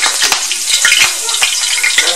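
Fresh sweet basil sizzles and crackles in a hot pan, a steady bright frying hiss with a few sharp pops and stirring scrapes, close and loud with no talk.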